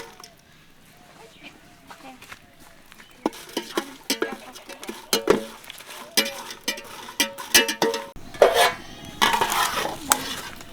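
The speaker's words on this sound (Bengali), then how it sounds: "আমরা এখন হালকা করে মরিচটা ভেজে নিচ্ছি।" Chili lightly frying and being stirred in a pan for a sweet-and-sour olive pickle, giving repeated scraping and clinking strokes over a soft sizzle, growing busier and louder midway, with a brief spike of hiss near the end.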